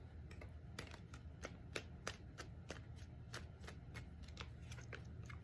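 Tarot cards being shuffled steadily by hand, a run of quick crisp riffling flicks repeating close by over a soft continuous rustle, with no talk.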